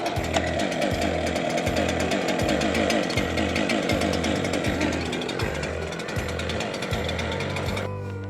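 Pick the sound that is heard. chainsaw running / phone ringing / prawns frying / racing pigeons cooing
chainsaw running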